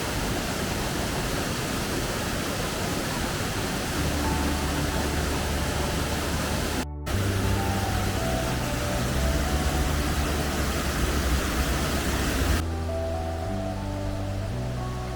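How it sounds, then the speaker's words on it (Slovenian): A waterfall in the icy, snow-covered Pekel gorge in Slovenia, a loud continuous roar of falling water, with a faint tonal hum entering partway through and a brief cut near the middle, heard with no speech. "Tole je ledeno kraljestvo drugega slapu."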